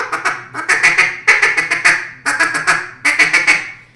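A hand-blown duck call imitates a feeding mallard hen, giving rapid raspy quacks in quick bursts separated by brief pauses. The calling is close and clear, with no voices.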